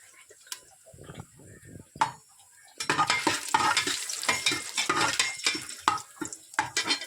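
Whole spices such as cinnamon and cloves drop into hot oil in a cooker and sizzle loudly, with scraping stirs and a few metallic clinks; a quiet start gives way to a steady, busy crackle.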